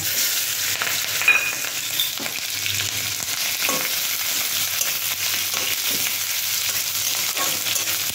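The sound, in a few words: onion and chilli frying in oil with five-spice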